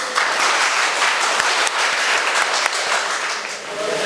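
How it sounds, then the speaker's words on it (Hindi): Loud, dense applause from a gathered audience at a Maithili-language cultural event, sustained steadily for about four seconds with no talk over it. "जोर से ताली बजाओ तो सब एक बेर"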